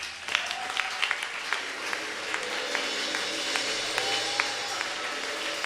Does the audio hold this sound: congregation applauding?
yes